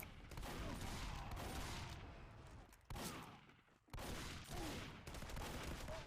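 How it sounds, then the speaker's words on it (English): Competitive Team Fortress 2 match play with rapid shotgun blasts and pipe grenade explosions, dense overlapping bursts of gunfire and blasts at a moderate level, with brief pauses between volleys. "Some good pipes, but just gets shotgunned and shotgun hell."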